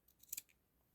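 Scissors snipping vintage lace while making a needlebook: a few light, quiet snips with one crisp double cut in the middle, close up and faint, with no talking.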